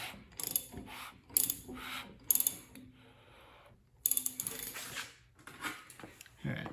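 Ratchet wrench turning the crankshaft of a Ford 363 small-block engine during assembly, close-up bursts of rapid clicking pawl in several short strokes with brief pauses between.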